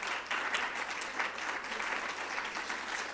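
An audience applauds panelists taking their seats at a youth mental health event, sustained dense clapping at moderate distance with no voices over it.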